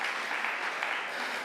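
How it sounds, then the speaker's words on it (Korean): A church congregation at a Sunday service claps together in a short, steady burst of dense applause, moderately loud, with no voice standing out. "우리 박수로 축하해 주시면 감사하겠습니다."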